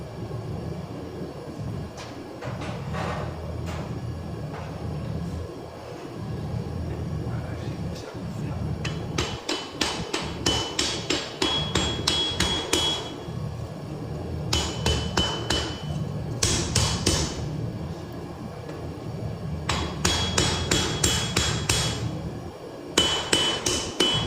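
Hammer blows straightening a forged Bowie knife blade, sharp ringing metallic strikes in quick bursts separated by pauses, over a steady low forge or workshop rumble.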